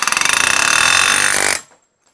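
A cordless Milwaukee M18 Fuel air hammer drives a piece out with its smaller tip, a loud, rapid hammering burst lasting about a second and a half before stopping abruptly.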